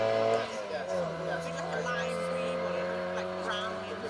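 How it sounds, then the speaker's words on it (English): A Mini rally car with a straight-cut gearbox revs and whines nearby on a rally stage, the high gear whine rising and falling over a steady mechanical drone. "Sounds so right, doesn't it? A Mini with a straight cut gearbox."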